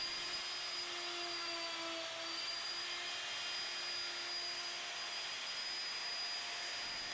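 A router cuts trenches in wood on a WoodRat jig, giving a steady, loud high-pitched whine with airy motor roar that holds constant throughout, close by and without speech.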